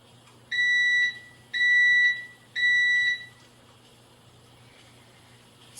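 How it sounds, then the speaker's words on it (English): Electric pressure cooker beeping when cooking is finished: three evenly spaced, clear electronic tones, each about half a second long, in a quiet room. "you'll hear the machine beep to indicate that it's done cooking"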